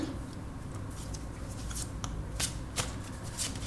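Tarot cards shuffled by hand in a steady papery riffle, close and soft, with a few sharper card snaps as cards are drawn.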